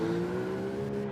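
A race car engine at Irwindale roars at steady high revs as the driver gets on the throttle, a sustained loud drone that ends in a sharp crackling pop.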